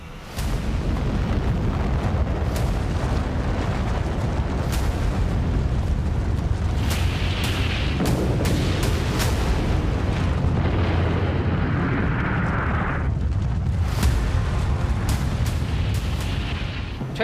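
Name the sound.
nuclear bomb explosion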